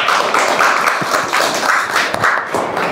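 A class claps for the quiz winners, steady close clapping from a small group running throughout with no talk.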